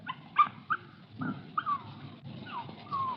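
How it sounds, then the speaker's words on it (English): A young female puppy gives a string of short, high yips and whimpers, several quick cries in a few seconds, fairly close but soft against a quiet room. "Just a puppy."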